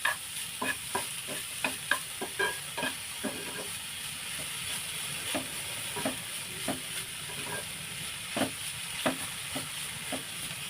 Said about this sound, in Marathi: आता याला व्यवस्थित तेलामध्ये परतून घ्यायचं.